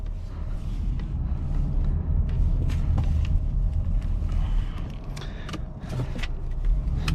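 1998 Lexus GS300 with the 2JZ engine driving on a sunny day in Turlock, California, heard from inside as a steady low engine and road rumble with occasional light ticks and clicks in the cabin.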